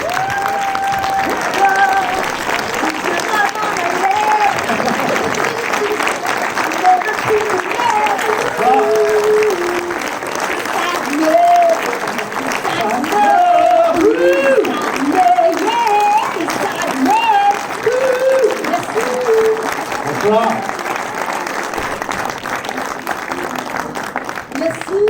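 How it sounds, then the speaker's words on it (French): A cinema audience at a film premiere gives a long, sustained round of applause for the film crew, with cheers and people talking over the clapping. "on va faire un tonnerre d'applaudissements à l'équipe du film que vous venez de voir"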